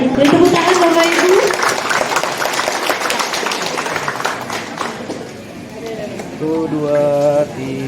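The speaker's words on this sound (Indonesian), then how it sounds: "Tepuk tangan Bapak Ibu." Audience applause at a joint commitment signing ceremony, a steady broadband clatter of many hands filling the room, with a voice talking over it near the start and end.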